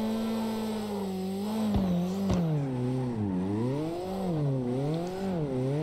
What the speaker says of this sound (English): Engine doesn't sound too bad.